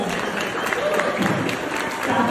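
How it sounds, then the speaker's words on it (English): Dense applause from an audience at a staffing-industry stand-up comedy show, steady and fairly loud for a couple of seconds, with some voices mixed in. "give yourselves a round of applause"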